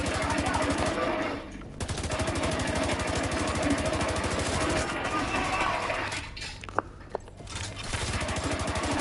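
Steady, dense automatic fire from The Division 2 runs almost the whole time, with a brief lull and a couple of sharp single cracks near the end.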